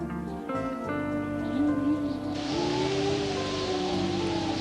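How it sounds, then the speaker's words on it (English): Ghostly wind with a steady breathy hiss that swells fuller partway through, over a long wavering moan that rises and falls like a haunting howl. "The wind."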